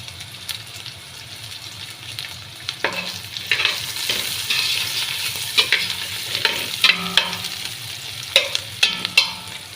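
Masala for a mutton dish frying in a pan, a steady loud sizzle with crackling pops and occasional scrapes of a stirring spoon, no talking.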